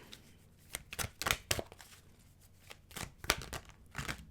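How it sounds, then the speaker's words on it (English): Tarot deck being shuffled by hand: a series of sharp, riffling card bursts in uneven clusters, close and crisp, separated by brief quiet gaps. "What was with that shuffle?"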